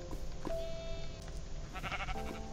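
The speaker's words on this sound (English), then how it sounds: "Wow, look at all those sheep." Sheep bleating in the Minecraft video game, several wavering game-sound bleats overlapping one another over a couple of seconds, loud and close, with no talking.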